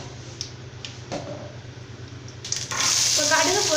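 A few soft knocks, then mustard seeds in hot oil suddenly burst into a loud, steady sizzle with rapid spluttering crackles.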